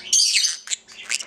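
A conure parrot chirping up close: a loud, shrill, drawn-out squawk followed by two shorter sharp chirps.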